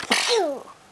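A single sharp sneeze bursts out, close and loud, trailing off into a brief breathy tail.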